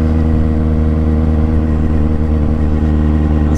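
Triumph Street Triple R motorcycle engine running close and loud, a steady, dense mid-pitched drone that holds evenly without pauses or speech.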